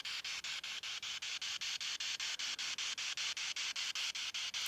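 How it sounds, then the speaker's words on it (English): Spirit radio sweep static hisses faintly and continuously, chopped into rapid even pulses as the scan steps through stations, with no voices present. "So probably all you can hear, if you can hear this, is the static coming through."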